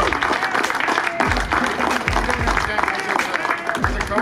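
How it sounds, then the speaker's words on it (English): A crowd of players and families claps enthusiastically for the coaches at a school team gathering, dense sustained applause throughout the short stretch. "a big round of applause for all they do for you guys"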